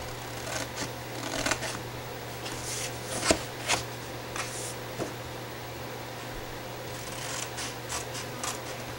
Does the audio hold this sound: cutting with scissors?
yes